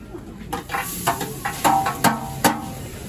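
Salt pork and minced onion frying in a pan over an open fireplace at a hearth-cooking dinner, giving a soft steady hiss with scattered stirring clinks and scrapes across a few seconds.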